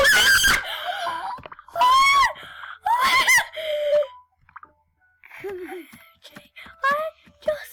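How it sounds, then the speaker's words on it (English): A person screams several times in sharp, loud bursts separated by short pauses, with gasps and breathy cries mixed in. Some talk follows. "I just screamed."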